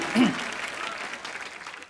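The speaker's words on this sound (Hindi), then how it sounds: "कुछ भी नहीं कहना फिर भी ताली और हंसी" A studio audience at The Kapil Sharma Show bursts into brief applause, a short swell of clapping under talk that quickly fades.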